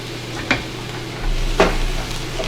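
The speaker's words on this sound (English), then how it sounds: "Loving that sizzle" Shallots and tomatoes sizzle steadily in a pan on the stove, a soft continuous frying hiss with two brief clinks of stirring.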